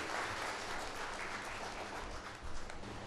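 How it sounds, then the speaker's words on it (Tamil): An audience at a Tamil debate-forum event claps steadily to welcome a speaker, a dense, continuous applause filling the hall with no voices over it. "ஒரு கைதட்டு கொடுத்து நீங்கள் அவர்களை வரவேற்க கேட்டுக்கொள்."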